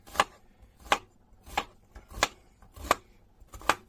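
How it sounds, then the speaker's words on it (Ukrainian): Vegetables cut with a sharp santoku knife on a board, six evenly spaced crisp chops at a steady slow rhythm, close and clear with no talk. "Починаємо таку різати"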